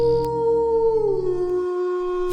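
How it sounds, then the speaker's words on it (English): A wolf howls at night, one long sustained call whose pitch slides gently downward before it cuts off, loud and alone. "She could hear the buzzing of crickets and the howling of wolves."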